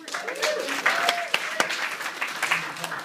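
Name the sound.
audience applause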